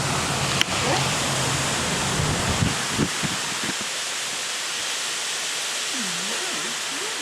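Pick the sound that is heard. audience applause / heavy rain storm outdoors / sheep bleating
heavy rain storm outdoors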